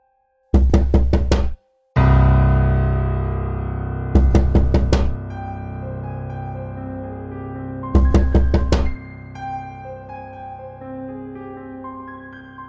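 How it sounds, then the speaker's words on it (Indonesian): Knocking on a bedroom window at night, heard as three tight clusters of rapid, hard knocks spaced several seconds apart, each followed by a ringing low resonance that lingers, loud and close with no voices. "Suara ketukan itu berjeda kira-kira setiap 5 detik."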